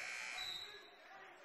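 A shot clock buzzer sounds in a gym during a boys high school basketball game between Lincoln and St. Augustine, a sustained electronic tone heard faintly and distantly over crowd ambience.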